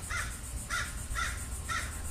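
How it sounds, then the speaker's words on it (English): Crows caw four times in an even rhythm while fighting over a tree, each call harsh and clear at moderate distance against a low background hum. "These birds have been fighting over this tree back here."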